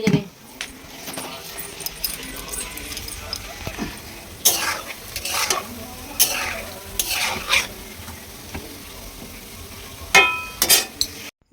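Bhog offering food cooking in a home kitchen during Janmashtami puja preparations, with stirring, sizzling and clinking pots and utensils in irregular bursts, fairly close, with some voices around.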